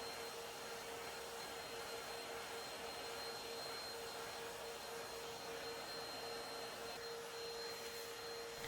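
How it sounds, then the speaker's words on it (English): A household vacuum cleaner sucking up loose excess silver leaf from painted furniture, a steady faint whine with an even drone throughout and no voices. "I use my vacuum to suck off the excess silver leafing."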